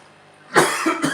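After a quiet moment, a person coughs sharply three times in quick succession, close and fairly loud.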